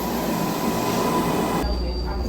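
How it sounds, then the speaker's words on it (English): A train rolls past with a loud, steady rumble and a high metallic squeal from its wheels. It is close and continuous, and the noise drops away abruptly at the end. "I hope you guys don't hear the train"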